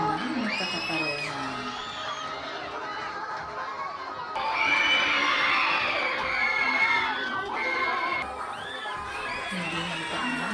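A school audience at a Buwan ng Wika culminating activity shouts, whoops and cheers for its candidates, a dense, shrill crowd of young voices that swells louder midway before easing slightly.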